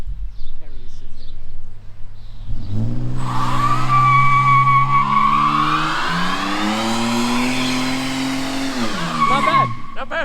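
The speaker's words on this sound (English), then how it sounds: "He's gonna do a one tire fire. The right rear wheel spins." A Nissan Pathfinder spins its right rear wheel in a one-tire burnout: the engine revs up hard into a long, loud tire squeal that rises and holds for several seconds before dropping off, with people talking nearby.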